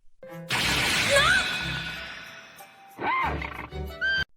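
An ordinary horse in a fantasy farming anime lets out a loud, shrill whinny with a breathy, rough edge. A second, shorter neigh follows after a brief pause.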